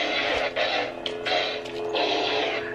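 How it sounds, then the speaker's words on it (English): Custom lightsaber deflecting blaster shots and clashing with another lightsaber: a continuous electric buzz broken by several sharp crackling bursts and brief dips, close and loud, with no voices. "The way things sound when you deflect shots and you're hitting another lightsaber."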